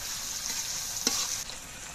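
Ginger-garlic paste sizzling in hot oil in a pan, a soft steady fry with a single clear scrape of a spoon stirring it midway.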